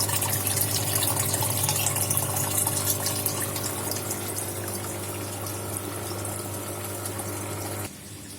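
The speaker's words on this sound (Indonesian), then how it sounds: "Sekarang kita ambil air dari ini tangki ikan." Water drawn from a fish tank in an aquaponics setup gushes and pours steadily over a constant pump hum, loud and near, cutting off abruptly near the end.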